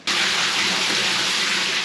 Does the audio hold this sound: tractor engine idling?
no